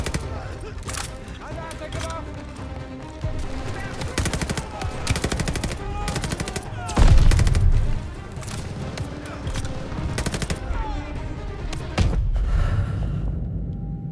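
Call of Duty: Vanguard gunfire, rapid machine-gun bursts and single shots crackling in uneven clusters with a heavier boom midway, loud and close amid game noise.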